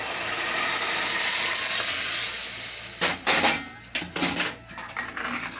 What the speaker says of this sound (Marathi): आता आपण डाळीचं गरम पाणी ॲड करायचं आहे